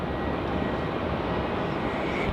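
A departing airliner climbs out from Melbourne Airport with a steady, loud, broadband jet roar that holds constant throughout.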